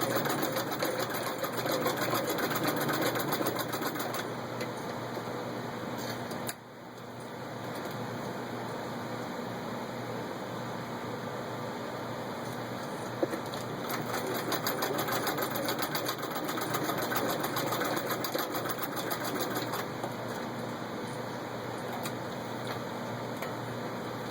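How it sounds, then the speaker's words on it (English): A 1913 Singer 66-1 Red Eye treadle sewing machine stitches through six layers of denim with a steady, continuous mechanical whir and fast ticking, running close and evenly with one brief pause partway through. "how well the machine stitches"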